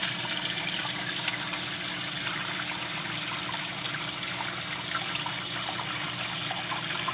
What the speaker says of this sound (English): Got my filters going to the max.